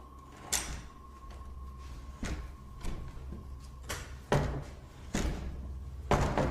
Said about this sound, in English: They push this door open, but are too scared to enter.